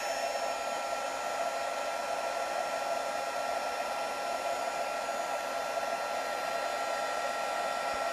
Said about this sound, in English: When we heat that with our heat tool,